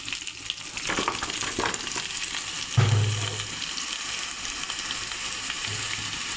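Chopped vegetables tumble into a pan of chicken stew that keeps up a steady, close sizzle and frying hiss, with a brief louder burst of bubbling and scraping around the midpoint as the pieces hit the hot liquid.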